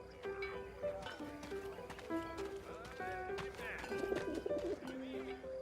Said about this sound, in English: Send the pigeon to Raphael's face